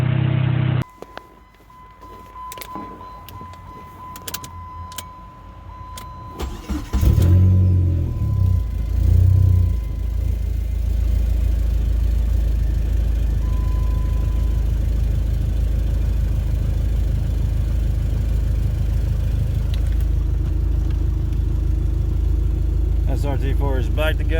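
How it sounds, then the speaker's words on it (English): A Dodge Neon SRT-4 engine, just reassembled after a no-start problem, cranks with clicks and then catches, settling into a steady, loud, close idle with a low rumble that continues to the end. "Yo, shit is running."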